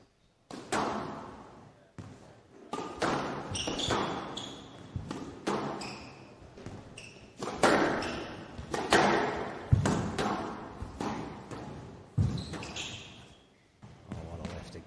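Squash ball struck back and forth in a long rally of high lobs during a professional match at the Ace Malaysia Squash Cup, with sharp hits and wall thuds in steady rhythm, heard under commentary.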